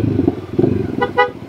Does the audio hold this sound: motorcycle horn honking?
yes